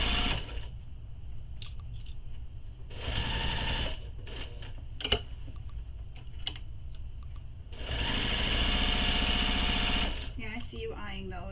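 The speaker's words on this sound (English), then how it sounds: "even though it's top stitching the pocket on, I use my regular stitch length" A sewing machine topstitches a pocket onto a lining panel at regular stitch length, running in two close, steady bursts of rapid whirring with a quieter pause between them and brief talk around them.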